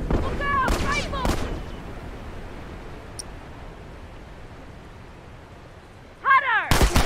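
Rifle shots in the video game The Last of Us, a few loud cracks at the start, then a steady rushing background, and another cluster of sharp shots near the end.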